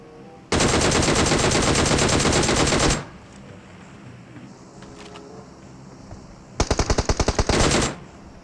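Automatic gunfire in the PUBG Mobile video game: a loud sustained burst of rapid shots lasting over two seconds, a quiet gap, then a second shorter burst of distinct rapid shots.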